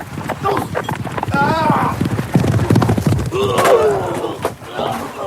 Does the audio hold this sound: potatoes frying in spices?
no